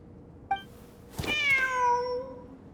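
A cat in the video game Genshin Impact gives a small chirp followed by one clear, drawn-out meow, close and alone.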